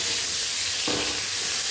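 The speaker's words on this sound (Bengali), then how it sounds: "এটাও আবার 2-3 মিনিট নেড়ে ভেজে নেব।" Green bananas stir-fried in a pan give a steady, close sizzle and hiss, with a brief louder burst of frying partway through as they are stirred; no one speaks.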